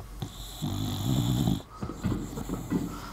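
Loud, close snoring: a long rasping inhale followed by shorter, wheezy snorts, with no talking.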